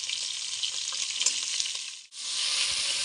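Vegetables sizzle steadily in a hot pan for a mung and masoor dal khichuri, a loud continuous frying hiss that dips briefly near the end as the pan is stirred, then resumes at full strength.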